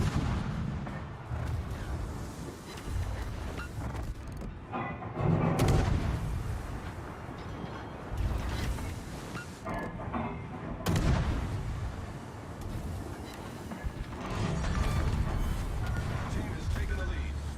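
Naval guns fire in a World of Warships battle, including shots from the Phoenix, as heavy booms and rumbling salvos that come in waves over a constant low background, with a voice talking through it.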